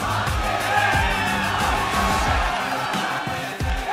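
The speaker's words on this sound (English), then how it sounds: "Crowd in a very jovial mood here for the CLG." A large crowd at a 2014 NA LCS League of Legends match between CLG and COL, loud continuous cheering and whooping in a big arena, steady throughout with rising shouts.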